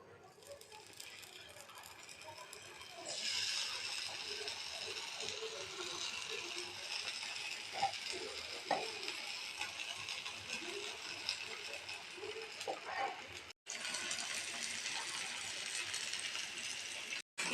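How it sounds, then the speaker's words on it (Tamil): Tamarind-marinated vanjaram (seer fish) fries in a pan, a soft steady sizzle with small pops that starts after a few seconds and continues close by, briefly cutting out near the end. "நம்ம மீனை பொரிச்சிக்கலாம்."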